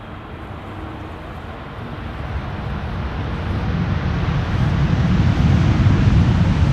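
An airliner lands in a crosswind at Amsterdam Schiphol Airport, a broad, rumbling roar heard from a distance that slowly swells louder over several seconds, mixed with wind noise.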